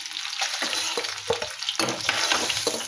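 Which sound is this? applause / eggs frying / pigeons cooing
eggs frying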